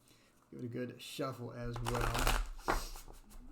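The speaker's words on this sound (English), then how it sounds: "So I'll give it a good shuffle as well." A Witch's Tarot deck is shuffled close up during a live tarot reading, with several bursts of riffling and flicking cards of rising intensity and no voice over them.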